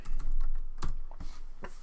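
A few quick keystrokes clack on a computer keyboard, close and fairly loud, in an uneven burst of taps.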